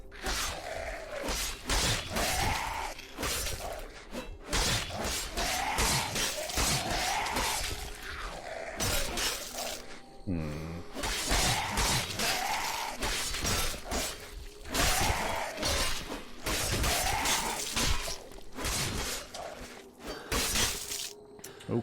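Repeated smashing and bashing in Cataclysm DDA, with the character breaking things apart, sounds as a steady stream of heavy crunching impacts and shattering hits, one after another with a short break midway.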